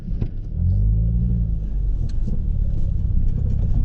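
Low-slung car with little ground clearance driving along a road, a loud close engine rumble that rises briefly at the start, then a steady drone with faint knocks and rattles, no voices.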